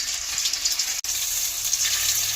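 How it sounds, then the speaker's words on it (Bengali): Boiled potatoes sizzle in a wok of hot ghee seasoned with cardamom, cinnamon and cloves, giving a steady, close, crackling hiss with no talking. "আলুগুলো একটু কষে নেব।"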